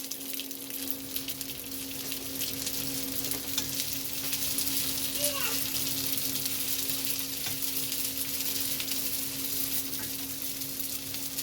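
Egg rolls fry in hot oil in a pan and get turned to crisp every side, giving a steady, close sizzle that runs evenly throughout with no talking.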